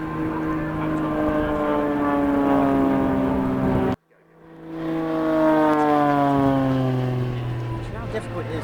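Propeller display aircraft performing aerobatics at the Farnborough Airshow roar loudly overhead with a droning, shifting engine pitch that cuts out briefly midway and then swells back, while a commentator talks over it.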